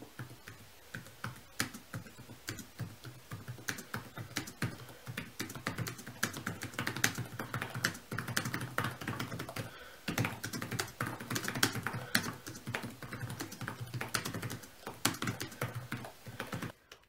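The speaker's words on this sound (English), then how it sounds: "I will now do a sound test, and I will progressively get faster in typing." Typing on the keyboard of a Dell XPS 13 9350 laptop: a steady stream of close, crisp key clicks that gradually speeds up, running alone without any talk.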